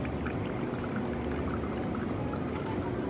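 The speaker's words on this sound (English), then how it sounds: "So now I'm ready to pour the espresso shot." A La Marzocco espresso machine pulls an espresso shot: a faint, steady trickle of coffee runs over the soft hum of the machine, quiet and unbroken, with no voices.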